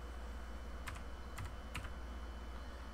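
Keystrokes on a computer keyboard while entering a crafting recipe search in Wurm Online, three short clustered bursts of quiet clicks over a steady low hum, no voices.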